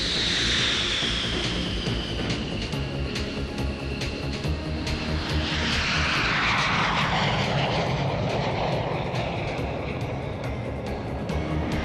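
A fixed-wing aircraft flies overhead with a loud, continuous engine roar that sweeps in pitch as it passes close by.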